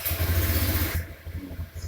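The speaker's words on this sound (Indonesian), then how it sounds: "Motor Anda sudah dinyalakan." A motorcycle engine, started through a WiFi smart remote, runs with a throbbing low idle that softens partway through, close by.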